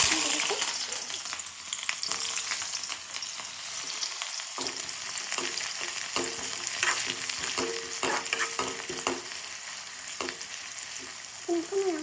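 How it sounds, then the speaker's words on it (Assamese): Chopped onions fry in hot mustard oil with a dense, continuous crackling sizzle, close up, and frequent scraping stirs from a utensil, with no talk. "এইফালে মিঠাতেল গৰম হৈ গ'ল, ইয়াত পিঁয়াজ কাটি থোৱা আছে, পিঁয়াজখিনি দি দিছোঁ।"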